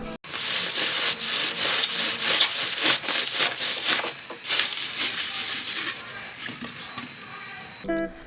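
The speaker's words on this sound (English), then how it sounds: "Eventually I just opted for a regular saw, a bit tedious, but it did the job." Hand saw cutting through a block of styrofoam, a steady run of scratchy, rasping back-and-forth strokes, close and fairly loud, with a brief clatter at the very end.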